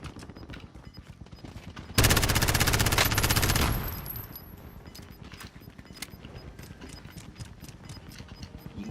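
Gunfire in Call of Duty Warzone: a long burst of rapid automatic fire lasting about two seconds, loud and close, followed by lighter rhythmic footsteps and scattered quieter shots.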